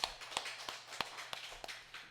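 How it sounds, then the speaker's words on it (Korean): A congregation at a Korean Full Gospel church Sunday service claps in sparse, uneven bursts, several distinct sharp claps spaced apart and fairly faint, like a small group applauding after prayer. "하나님께 영광의 박수 돌려드리겠습니다"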